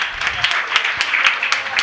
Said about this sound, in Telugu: చప్పట్లు కొడుతూ ఆహ్వానిద్దాం.